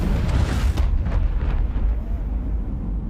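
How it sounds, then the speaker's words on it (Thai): A loud explosion in the co-op video game It Takes Two hits at the start with a heavy low boom and crackling bursts, then rumbles and fades over the next few seconds. "ระเบิด"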